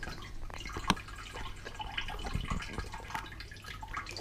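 Water running and dripping into a Fluval Edge 22-litre aquarium tank as it is topped up, a steady trickle with scattered close drips and small splashes, no talking.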